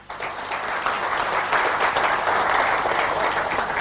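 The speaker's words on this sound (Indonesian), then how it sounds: "Kita berikan aplaus untuk Bapak." An indoor audience at a business meeting in Indonesia bursts into dense applause, loud and sustained, a steady wash of many hands clapping with no voices over it.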